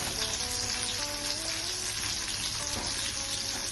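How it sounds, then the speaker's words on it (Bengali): Pieces of rohu fish, rubbed with turmeric and salt, fry in hot oil with a loud, steady, close sizzle and crackle that holds evenly throughout, with no voices. "এইভাবে মাছগুলোকে ফ্রাই করে নেব।"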